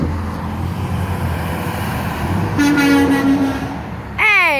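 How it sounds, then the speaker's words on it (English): A truck passes by with a loud rumbling roar, and a steady tone rises partway through, followed near the end by a sweeping, wavering horn-like sound. "Here comes the truck."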